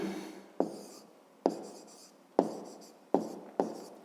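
A pen writes a math answer by hand in a schoolwork setting, with five distinct scratchy strokes, each a sharp onset fading out, spaced unevenly across a quiet background.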